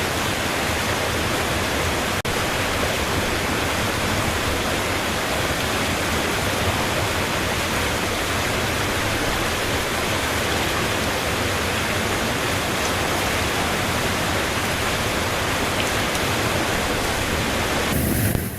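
The Tuolumne River in Yosemite rushes continuously, a broad, steady roar of flowing water close by with no pauses for the whole stretch.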